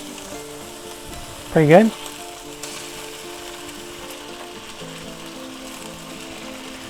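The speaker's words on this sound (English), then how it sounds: "I like to, cook the ham a little bit, even though it's, already cooked, but I like to brown it up just slightly" Already-cooked smoked ham browning in a frying pan, a steady soft sizzle running throughout, with a brief spoken remark partway through.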